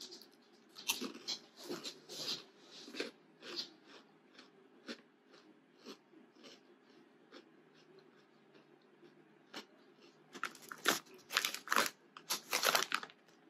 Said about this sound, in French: Déjà, c'est croustillant comparé à d'autres chips qui peuvent être un peu beaucoup moins croustillantes